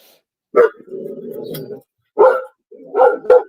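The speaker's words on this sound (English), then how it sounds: "That would be Toby barking in the house" A dog barks several times in short bursts, with a drawn-out whine between the first barks, fairly close and otherwise quiet around it.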